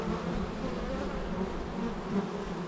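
Honeybees buzz steadily around a hive frame of brood, a close, continuous drone with no other sounds.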